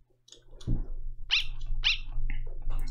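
A large dog barking in the video game Undertale, a few sharp, close barks spaced apart over a low steady hum of game sound.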